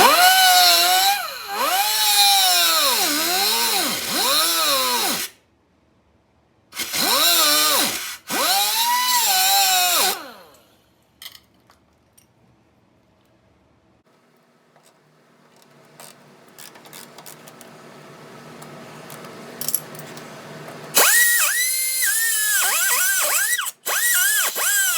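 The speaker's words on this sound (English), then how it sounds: "so I got to take my cutoff wheel and real quick" A cutoff wheel cuts through a spot weld on the unibody of a 1970 car with a 340 engine, whining loudly in several high, wavering bursts separated by quiet pauses, with a long final cut at the end.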